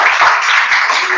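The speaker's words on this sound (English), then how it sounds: "So let's give Professor Vancel a round of applause" A lunchtime lecture audience applauds a professor, producing a brief, dense burst of clapping that is loud and close and lasts only a moment.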